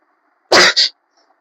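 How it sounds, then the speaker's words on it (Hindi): A single sharp cough, close and loud, with a quick second burst right after, then silence. "मुझे खांसी आ गया था"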